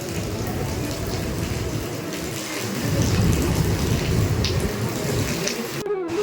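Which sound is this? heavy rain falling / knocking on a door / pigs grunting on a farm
heavy rain falling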